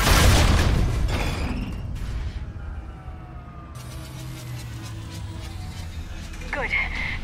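Heavy explosions and weapons fire in the Mass Effect video game, with a loud boom up front easing into a steady rumbling barrage and sirens under voices.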